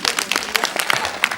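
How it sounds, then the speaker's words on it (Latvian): Brief burst of audience applause at a James Bond 50th anniversary presentation event, scattered claps, fairly close and loud, with a hint of voice mixed in. "pilnīgi pareizi. Aplausi."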